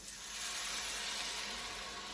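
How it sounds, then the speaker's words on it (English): White wine poured into a hot pan of Brussels sprout risotto sizzles with a steady, close, bright hiss that holds evenly throughout, with no talking. "Just pour in the wine"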